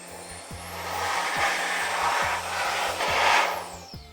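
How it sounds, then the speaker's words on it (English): Air blasts over the metal shielding of a PlayStation 1 console to clear dust, a steady close hiss that swells and eases in waves, with a low repeating mechanical thump running underneath. "Just trying to loosen all that dust out of it. And we're going to try to blow it away from us there."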